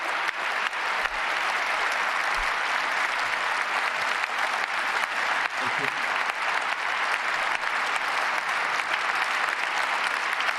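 A large crowd applauds at Trump's inauguration with sustained, dense clapping that holds steady throughout, loud and unbroken with faint voices under it.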